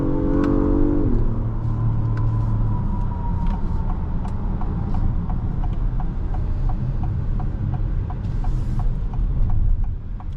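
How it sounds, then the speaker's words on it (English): A 2025 Acura MDX Type-S accelerates from inside the cabin, a steady engine drone with a brief rising rev and shift near the start, then constant road and tire rumble with faint rhythmic ticking. "Really quick acceleration. The transmission in the Type S is faster than the regular models."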